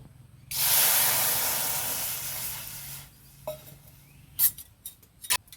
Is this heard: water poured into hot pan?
yes